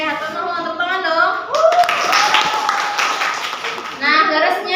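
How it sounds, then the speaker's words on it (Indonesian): A class of students clapping their hands together in a classroom, a steady patter of claps running under a voice speaking throughout. "Oke, hatur nuhun, tepuk tangan dong."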